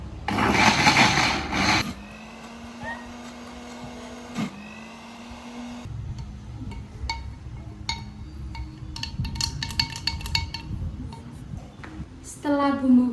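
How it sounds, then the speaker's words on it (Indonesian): An electric kitchen blender grinds candlenut, shrimp paste and lemongrass into a Balinese spice paste, starting with a loud whirring burst, then a steadier lower motor hum with scattered clatter and rising pitch toward the end. "dan blender sampai halus."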